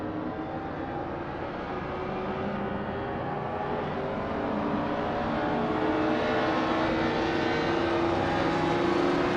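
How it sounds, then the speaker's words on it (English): Several race cars in a racing video game, a classic 1959 BMW 507 among them, rev and accelerate off the start line in a dense, rising engine roar that grows louder and holds steady. "The action has begun with some quick acceleration."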